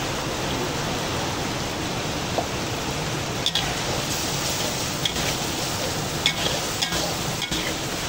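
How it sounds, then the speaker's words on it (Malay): Continuous dense sizzling of sambal frying in hot oil with salt and brown sugar, with occasional light scrapes and clicks from stirring. "Kita kacau dia sehingga pecah minyak."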